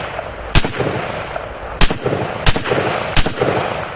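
Four sharp rifle shots from a Radical Firearms RF-15 AR firing brass-case 55-grain ammunition at an outdoor range, each loud crack spaced irregularly over a few seconds with brief echo tails and no talking.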